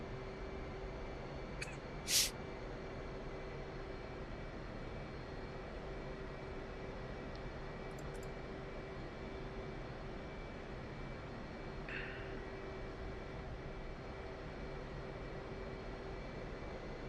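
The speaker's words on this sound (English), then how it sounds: "Wilco, starting engines" Twin engines of an F/A-18C Hornet spin up in the DCS World flight simulator, giving a steady, even drone with a constant whine. A few faint clicks sit over it, and no one speaks.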